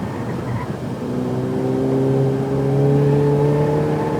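A Ferrari 488 Pista accelerates on a race track, its engine note rising steadily in pitch and growing louder, with clear harmonic whine climbing over several seconds from a close in-car perspective.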